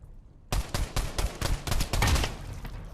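A UMP submachine gun fired one-handed like a pistol in a rapid string of close, loud shots that start abruptly after a brief quiet lead-in and continue in uneven bursts.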